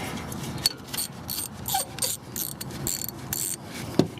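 A hex bit tool working a bolt out of the front wheel hub of a 2006 VW Jetta MK5, with close rapid ratcheting clicks and metallic rattles in uneven bursts.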